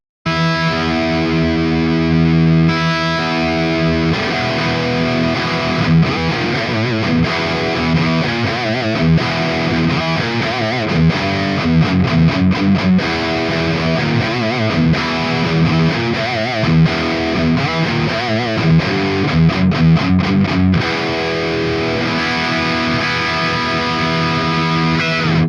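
A distorted electric guitar played through a Peavey Ultra Plus amplifier, retuned to standard, chugs out a dense, loud, continuous riff with heavy saturation and rhythmic palm-muted chords across the whole stretch.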